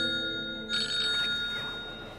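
A telephone rings in a quiet room, a faint electronic ringtone with sustained tones and a brighter trilling burst partway through.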